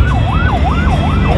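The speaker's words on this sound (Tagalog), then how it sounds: "Bibigyan naman tayo sa ambulansya kasi alam natin ang trabaho nila" Ambulance siren wailing loudly up and down in a steady repeating sweep amid traffic, with engine rumble beneath.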